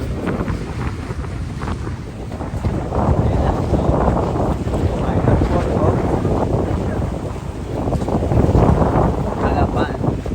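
Ferry crossing rough sea from Manila toward Calapan, Oriental Mindoro, with steady loud wind buffeting the microphone and a broad rushing roar of water and engine throughout, swelling slightly midway and near the end.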